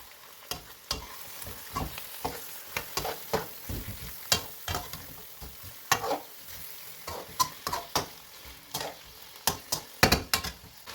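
Chicken fries steadily with onions in a pan while a utensil stirs and scrapes in repeated sharp strokes, close and fairly loud, with no talking.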